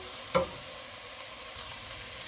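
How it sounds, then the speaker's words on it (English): Onions frying in a pan, a steady close sizzle hissing throughout, with one brief utensil tap near the start while being stirred. "give this all a nice mix and make sure that it cooks really nicely so that the onion becomes as transparent as possible"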